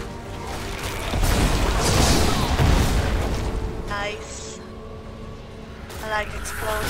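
Several booming explosions and crashing impacts in Minecraft with the Pixelmon mod, loud and dense over the first few seconds, followed by quieter mechanical sounds and brief whooshing tones.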